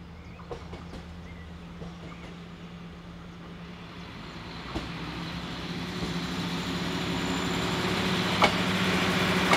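A train working the 1335 service from Straszków to Usti-nad-Labem in the Elbe River valley slows on the line, its engine rumbling low and growing steadily louder as it approaches, with faint birdsong around.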